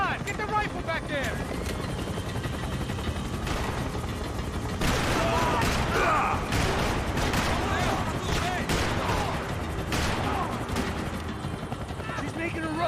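Rapid bursts of gunfire in the action game Max Payne 3, crackling over the steady roar of a helicopter, with shouted voices from characters mixed throughout the loud, busy scene.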